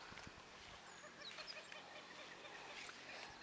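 Small birds chirp and twitter in a busy chorus outdoors, with short high calls scattered over a steady background hiss.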